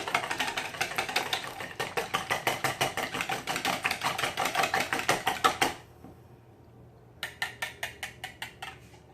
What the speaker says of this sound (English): Now I'm going to go ahead and beat the eggs up in here.